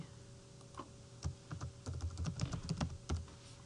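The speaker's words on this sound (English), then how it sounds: "I have to type in my" Typing on a computer keyboard to enter a password, a quick burst of close, crisp key clicks in an uneven rhythm that starts sparse, then speeds into a dense run of taps, with no talk.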